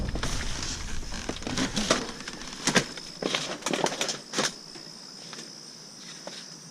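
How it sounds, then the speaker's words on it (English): Inside a Goodwill store, a cricket trills a steady high-pitched chirp while footsteps and rustling shuffle nearby, the clatter fading toward the end. "That's a bad spot for a cricket."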